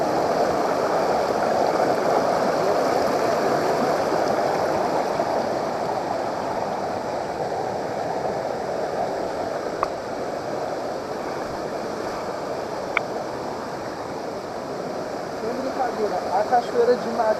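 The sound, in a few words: waterfall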